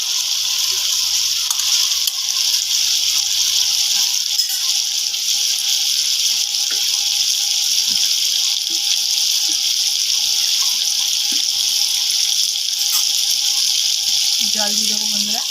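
Water pours steadily into a pan of Bengali rohu fish curry (tel jhal) with fried fish pieces, a continuous close splashing gush lasting throughout.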